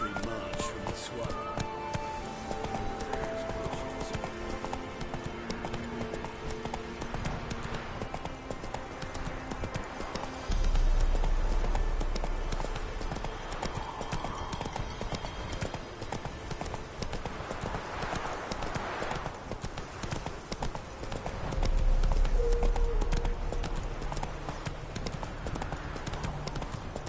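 Galloping horse hooves from a cavalry charge in The Witcher 3 video game pound in fast rhythmic clip-clops, swelling louder in two surges, while music and a voice play underneath.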